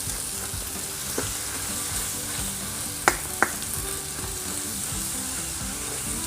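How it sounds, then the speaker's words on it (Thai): Blanched instant noodles being stir-fried in a pan with egg and shredded cabbage, giving a steady, loud sizzle throughout. Faint scrapes and two sharp clicks of the utensil against the pan come through the frying. "ผัดคลุกเคล้าให้ทุกอย่างเข้ากันนะครับ"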